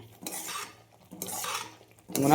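A spoon stirs thick semolina in a cooking pot in three separate scraping strokes, each a short swish against the metal with quiet gaps between them.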